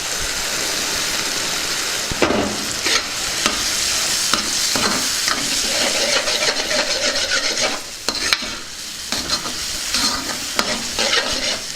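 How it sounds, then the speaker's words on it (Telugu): Green peas are stirred into a paneer curry in a pan, the spoon scraping in steady repeated strokes over a constant close sizzle, with no talking. "దీన్ని బాగా కలుపుకుందాం పచ్చి బఠానీ వేసుకుందాం"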